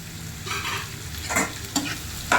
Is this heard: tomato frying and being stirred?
yes